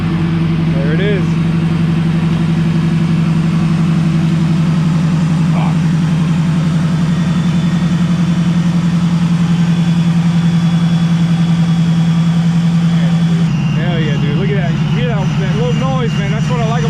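A four-door Ford Mustang with a five-speed manual swap idles loudly, its deep, steady engine rumble running continuously throughout, with a shift in tone near the end; people talk faintly over it.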